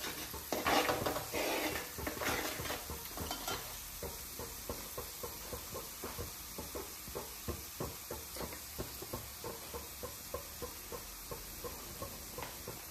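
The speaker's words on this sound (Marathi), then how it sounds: "मसाला मस्त शिजून द्यायचा थोडा।" Spiced masala for a Maharashtrian crab curry sizzles softly in a pan while a spoon scrapes and stirs it in a steady, repeated rhythm, with a few heavier clatters at the start; fairly quiet and close.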